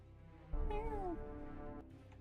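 A cat meows once at a door, a clear rising-and-falling cry over steady room hum, heard during a tabletop role-playing game session.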